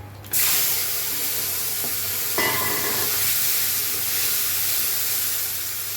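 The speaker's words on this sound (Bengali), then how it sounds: "একটু কালো জিরে দিলাম এবার দিচ্ছি টমেটো" Tomatoes drop into hot oil with black cumin and sizzle loudly, a sudden burst of frying hiss that holds steady and sharpens briefly as more pieces hit the pan.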